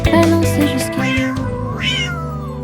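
A cartoon cat in a French children's song meows loudly in drawn-out, sliding cries over a bright musical backing, with no talking.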